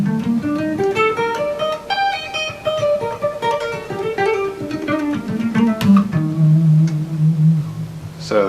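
Guitar running up and down a G harmonic minor pentatonic scale, clear single notes in a steady melodic line, close and alone, ending on a sustained low note.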